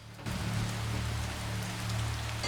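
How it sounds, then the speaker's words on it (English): Steady rain falls in The Witcher, an even, dense hiss of drops on surfaces that starts abruptly and continues without a break, with a low hum running underneath. "We could use more rain."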